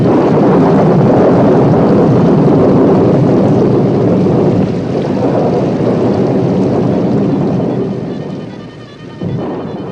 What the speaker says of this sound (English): There was constant thunder and lightning, severe winds and rain.